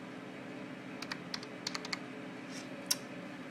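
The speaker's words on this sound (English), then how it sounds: "I'm going to type in anger." Quiet, close typing on a computer keyboard: a short burst of light key clicks, a few spaced taps and a final sharper keystroke over faint room hum, with no talking.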